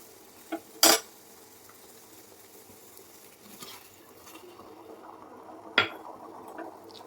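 Grated coconut stirred into boiling sugar syrup for coconut burfi, with two sharp metallic clanks of a utensil against the pan over a quiet background of faint bubbling and stirring.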